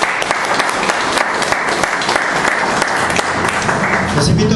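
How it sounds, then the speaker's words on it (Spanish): A church congregation applauds in welcome at the start of a Spanish-language service. The clapping is loud, close and dense, many hands at once, steady throughout, with faint voices mixed in toward the end. "Démosle ese fuerte aplauso de bienvenida."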